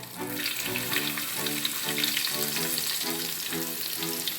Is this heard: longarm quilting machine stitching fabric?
no